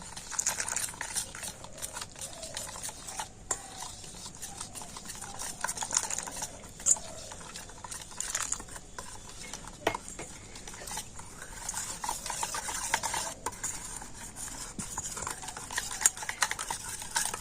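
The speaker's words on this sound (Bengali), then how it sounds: "বেসোলা চালের গুঁড়িটা তো খুব ভালো করে এইভাবে আমি একটু ফেটিয়ে নিয়েছি" Gram flour and rice flour batter being whisked in a bowl for cauliflower fritters, a busy run of quick, uneven scraping and tapping strokes against the bowl, close and moderately loud, with no speech.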